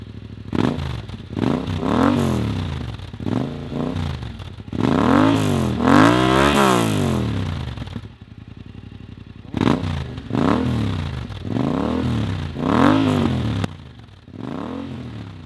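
A Yamaha Ténéré 700 (T7) adventure motorcycle on a test ride, its engine loud and close, revving and accelerating through repeated rising sweeps, with a short easing-off lull midway before pulling hard again.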